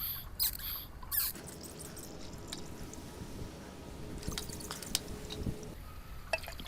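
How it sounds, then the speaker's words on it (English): Silty gold-extraction slurry drips and gurgles through a cotton plug in a vacuum filter, with irregular wet drips, squelching and sucking sounds, plus a few sharp clicks and bumps of handling. "cotton in the filter, vacuum, rapid filtration until we encounter the silt."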